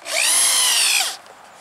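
A power drill spins up and drives a 4-inch deck screw into wood in one loud, close burst of about a second, then stops abruptly.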